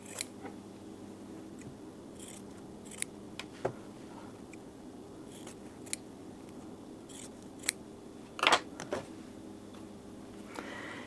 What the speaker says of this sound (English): So now I can trim a 1/4 inch away.